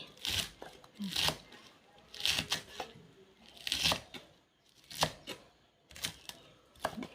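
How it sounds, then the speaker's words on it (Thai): A knife coarsely chops coriander and spring onion on a cutting board in irregular crisp strokes, close by, with short pauses between cuts. "ผักชีต้นหอมหั่นเลย หั่นหยาบนะไม่ได้หั่นย่อย"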